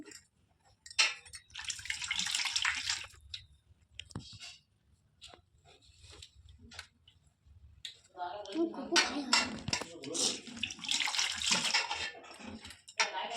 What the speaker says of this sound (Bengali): গপু ভাইও খুব আনন্দ সহকারে মার কাছে স্নান করছে